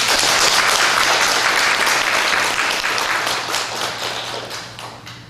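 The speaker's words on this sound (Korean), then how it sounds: "우리 모두 참 어머님께 뜨거운 감사의 박수를 올려주시기 바랍니다." A church congregation at a Sunday service claps in thanks, loud and dense throughout, with a steady low hum beneath and a slow fade toward the end.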